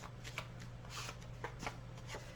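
Oracle cards being shuffled by hand during a pick-a-card reading: a run of soft, papery riffles and taps, close and fairly quiet over a steady low hum, with no talking.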